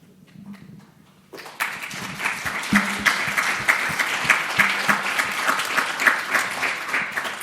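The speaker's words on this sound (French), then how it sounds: "vous prenez le risque des applaudissements à chaque fois" After a brief murmur, audience applause bursts in at a French round-table event on employment, steady and fairly loud with distinct individual claps standing out.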